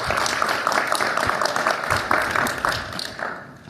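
Steady applause from a conference audience welcoming a panel, a dense wash of many hands clapping that holds for a few seconds before tapering slightly.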